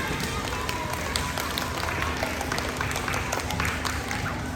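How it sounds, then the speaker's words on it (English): Schoolchildren clap for themselves during an author's visit to Woodford, a thick, continuous patter of many small hands filling the room for several seconds. "Give yourselves a clap."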